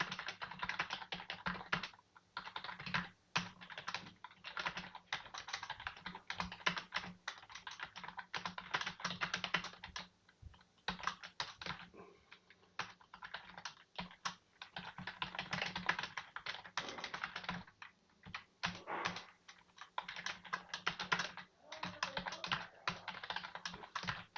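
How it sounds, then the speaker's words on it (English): Typing on a computer keyboard: quiet, rapid clusters of key clicks in irregular bursts with short pauses, close and otherwise alone. "now I have an empty program here and I can start typing"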